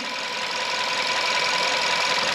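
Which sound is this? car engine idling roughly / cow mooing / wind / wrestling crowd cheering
car engine idling roughly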